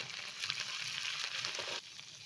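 Ginger garlic paste and prawns fry in hot oil, a close, continuous crackling sizzle that eases slightly near the end, with no talking.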